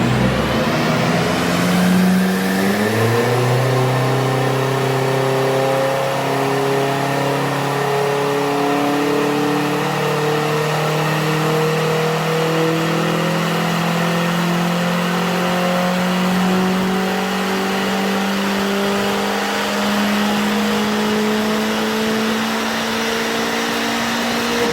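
An Audi S3 fitted with a K04 turbo revs hard on a tuning run. A loud, sustained engine note climbs steadily in pitch for the whole stretch, with rising harmonics and turbo whine and no talking.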